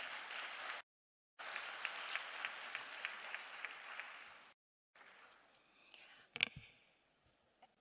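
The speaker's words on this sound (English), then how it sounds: "Let's give them a big round of applause." Clapping for the Homecoming Committee from an event audience, a soft steady wash of applause broken by two sudden dropouts, followed by quieter shuffling and a brief sharp knock.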